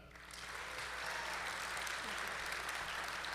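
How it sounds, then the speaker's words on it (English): Audience applause at a live cybersecurity podcast taping at a conference, a steady dense clapping that swells in within the first half second and holds evenly throughout. "A big round of applause for Teresa Tonthat."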